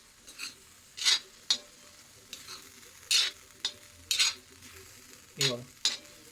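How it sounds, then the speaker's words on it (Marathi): Small potato pieces stir-fried with dried shrimp in a pan, heard as a quiet sizzle broken by about eight sharp, separate spatula scrapes and clinks spaced irregularly across the clip. "मी एक छोटूसा बटाटा घेतलाय तो त्याच्यामध्ये टाकूया हो छोटूसा एक बटाटा घेतलाय तो चांगला परतून घेऊ"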